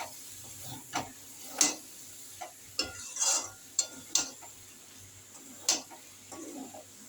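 A pan of fish and potato curry is stirred, with coriander leaves mixed in, producing scattered scrapes and taps of the spoon against the pan over a low, quiet background, close and without talking.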